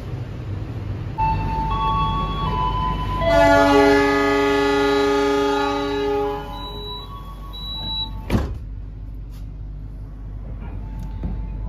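A Progo New Generation passenger train travelling at speed between Jogja and Bekasi; a constant loud rolling rumble, with a long multi-tone horn blast in the middle and a sharp clack near the end.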